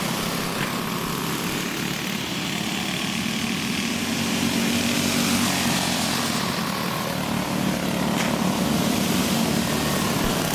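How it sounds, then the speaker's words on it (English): Small engines of backyard go-karts racing in an outdoor 30-lap feature, a steady buzzing drone with no clear pauses, heard at a distance and filling the whole stretch. "The motor cutting off on Buddy a little bit, as well as a tire going down."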